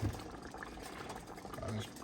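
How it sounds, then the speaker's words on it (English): Hamburger gravy bubbling softly in a pan as it thickens, a low continuous simmer with faint pops, close and quiet. "it's already almost quit bubbling"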